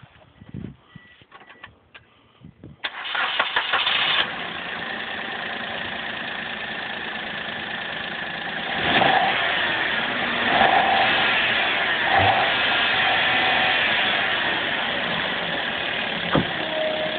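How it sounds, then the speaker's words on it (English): A Suzuki Alto engine cranks a few times, then catches and settles into a steady, smooth idle nearby, with a slight swell in revs partway through and faint birds in the background. "Beautiful smooth engine."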